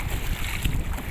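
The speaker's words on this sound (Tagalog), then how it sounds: "Malakas yung hangin." Strong wind buffets the microphone in a loud continuous roar at night by the sea, with a faint wash of water beneath it.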